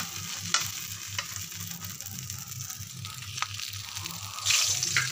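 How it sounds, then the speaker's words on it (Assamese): Fenugreek and mustard seeds sizzle and crackle steadily in hot oil left from frying fish, a close, continuous fry with occasional pops and stirring scrapes. "এই গৰম তেলখিনিতে এতিয়া মাছ ভজা তেলখিনিতে মই মেথি আৰু একদম সৰিয়হ দি দিম"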